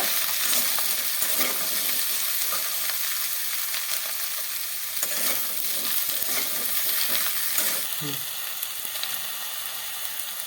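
Bitter gourd curry with mustard being fried and stirred in a pan, a loud continuous sizzle close up with repeated scraping stirs throughout and a soft clink near the end.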